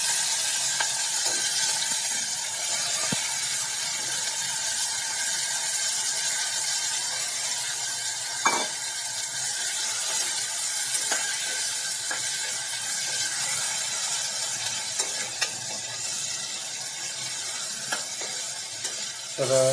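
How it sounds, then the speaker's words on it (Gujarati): Chopped cowpeas, potatoes and tomatoes sizzle in hot tempering oil with a steady, close, continuous hiss throughout, broken by occasional scraping clicks of a stirring spoon. "હવે આપણે જે કટિંગ કરીને રાખેલું છે ચોળી બટેકા અને ટમેટા, તેને પણ વઘાર કરી લઈએ."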